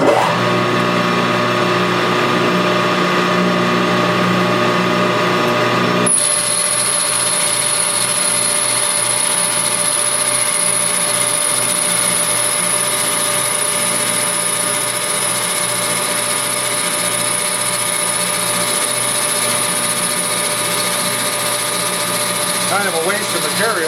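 Metal lathe taking a 100 thou roughing cut on metal stock, a sustained machine hum with steady tones, joined partway through by a high, thin whine from the cut that persists until the end.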